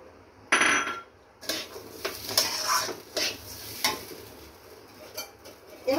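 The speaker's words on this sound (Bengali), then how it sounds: "দিয়ে দিলাম কাজু কিশমিশগুলো।" Cashews and raisins drop into a pot for chicken pulao, making a sharp clatter followed by irregular stirring scrapes and light sizzling, close and fairly quiet, with no talk.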